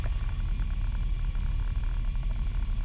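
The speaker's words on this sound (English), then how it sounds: "And the prop's coming back immediately." A Piper Arrow's propeller engine drones low and steady at reduced power, a continuous near rumble heard from inside the cockpit.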